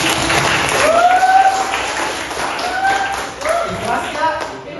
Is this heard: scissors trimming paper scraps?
no